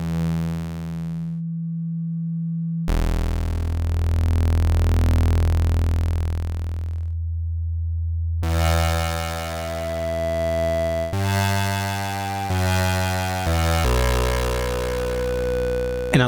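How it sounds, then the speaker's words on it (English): Eurorack modular synth built from B:art instruments modules, sustained tones that move from rich, buzzy waveforms into smoother sine and triangle waves, each held for several seconds before shifting pitch, loud and steady with no voices. "the harmonically more simple waveforms of the sine and the triangle wave are coming in a bit later, giving me a harmonic progression without any filters"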